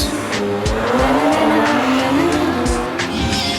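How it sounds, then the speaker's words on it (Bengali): A fast-moving motor vehicle roars loudly and close, with a strained engine whine and tire-like squealing over a continuous rumble, from a scene where a motorbike is ridden at speed. "জোরে চালাও উদয়, এত জোরে চালাও যে সবকিছু যেন পিছনে পড়ে যায়, আর এই গতি যেন আমাদের সবকিছু ভুলিয়ে দেয়।"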